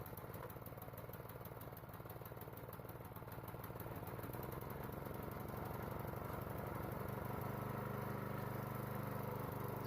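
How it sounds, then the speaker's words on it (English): A small replacement engine on a log splitter runs steadily after an engine swap, a continuous rapid putter close by with a constant level and no voices. "So far this engine started pretty easily."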